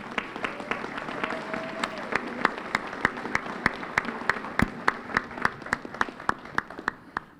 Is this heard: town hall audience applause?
yes